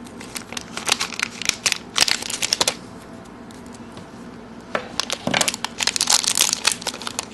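Plastic blind bag packaging for a Tokidoki toy being torn open by hand, close crinkling and crumpling in two bursts separated by a quieter pause.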